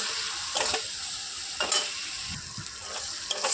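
Ground cumin and coriander masala sizzling in hot oil in a pan, a steady crackling fry broken by several scraping stirs of a spatula, close and clear with no voices.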